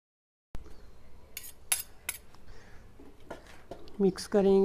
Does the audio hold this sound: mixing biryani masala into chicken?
yes